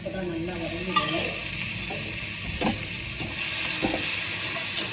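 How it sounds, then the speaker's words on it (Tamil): Chopped ingredients for tomato chutney sizzle steadily in hot oil in a pan, with a few scraping stirs breaking through the continuous close frying hiss. "டொமேட்டோ சட்னிக்கு இந்த மாதிரி தாங்க வதக்கணும்"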